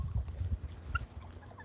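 Outdoors among chickens and guinea fowl, a turkey gobbles once in a short, faint burst over low background rumble.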